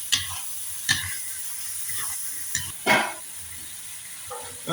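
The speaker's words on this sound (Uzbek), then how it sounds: "Sabzini qovurib turish kerak." A steady sizzle of carrots frying in a pan, broken by several scraping strokes of a spoon stirring, close and clear with no talking.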